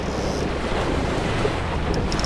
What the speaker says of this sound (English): Wind's definitely coming up further up the lake